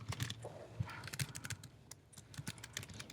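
An email being typed on a computer keyboard: quick irregular bursts of close key clicks at moderate volume, with a brief pause in the middle and no talking.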